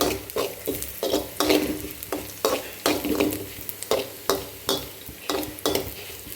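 Spices fry in coconut oil for a country chicken curry, with a spoon scraping and stirring the pan in a steady rhythm of about two strokes per second over a constant close sizzle.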